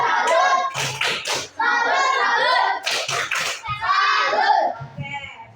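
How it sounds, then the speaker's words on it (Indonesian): A classroom of children performs a rhythmic salute clap in unison, loud hand claps mixed with children's voices and a teacher talking throughout. "tepuk salut dulu untuk Nanda dan Kinara. Ayo 1, 2, 3. Tepuk salut."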